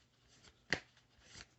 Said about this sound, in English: I'm going to go on and shuffle up my oracle cards here